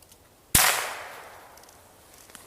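A single sharp shot from a Glock pistol firing .22 rounds, loud and close, with a ringing decay trailing off over a couple of seconds in an otherwise quiet outdoor range.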